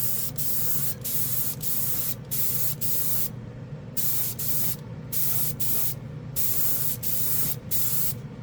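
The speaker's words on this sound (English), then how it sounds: "It atomizes the paint really nice." Airbrush spraying real automotive paint onto a car model, a close, loud hiss in repeated bursts of about half a second to a second, separated by brief gaps as the trigger is released.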